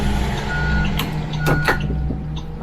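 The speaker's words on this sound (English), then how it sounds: "making sure I hear my backup beeper" A school bus backup beeper sounds during a pre-trip check with the bus in reverse, giving two clear high-pitched beeps over a steady idling diesel engine.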